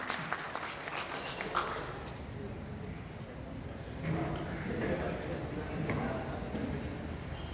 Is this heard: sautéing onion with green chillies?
no